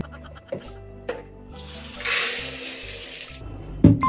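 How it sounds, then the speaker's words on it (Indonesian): Water gushes for about a second and a half, poured to soak soybeans for homemade tempeh, framed by soft clunks and knocks of handling and a sharp thud at the end. "saya rendam dulu kacang kedelainya"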